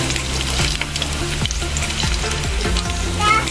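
Chopped onions and garlic sizzle steadily in a hot pan, a loud continuous frying hiss with occasional scrapes and clanks from stirring, close by.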